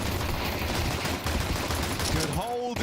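Rapid bursts of dual-pistol fire crackle in a Counter-Strike match, dense repeated shots over game noise before a brief tonal effect at the end.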